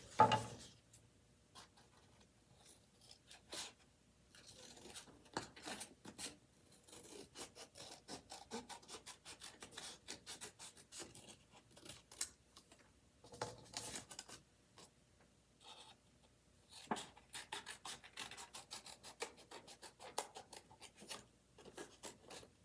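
Scissors cut out paper condor wings in a long, quiet stretch of rasping, scratchy snips and rubs that come in uneven bursts with short pauses, close by and alone.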